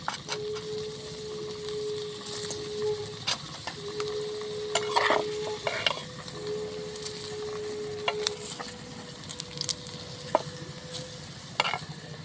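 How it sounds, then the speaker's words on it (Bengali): Potatoes frying in a pan of oil after the onions, a soft steady sizzle with occasional scrape and clink of a utensil against the pan, close by and fairly quiet, with a faint tonal hum running underneath. "আমার পেঁয়াজ ভাজা হয়ে গেছে, আমি এবার আলুটা ভেজে নিচ্ছি।"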